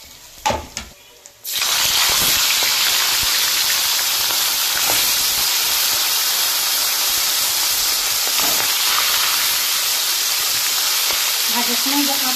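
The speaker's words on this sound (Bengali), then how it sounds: "তো এইভাবে আমি সব মাছগুলোকেই ভেজে নেব।" A few light clatters come first, then a large fangur fish hits hot oil in a pan and sets off a sudden, loud, sustained sizzling hiss that stays steady to the end.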